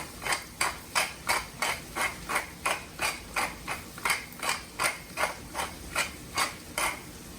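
A pepper mill cranks out pepper over a pot of grits, giving a steady run of about twenty crisp, gritty grinding clicks at an even, quick rhythm, close and clear, with no talking.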